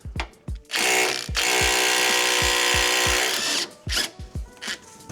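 A power tool on a Nissan 370Z, freeing the 17 mm bolts of a sway bar end link, whirs in one sustained two-second burst, framed by short ratcheting clicks and metallic taps close by.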